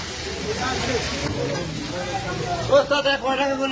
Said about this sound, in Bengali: ফ্রাই করা হচ্ছে এই যে হলুদ মাখানো আছে, সব কাঁচা কাঁচা মাছ।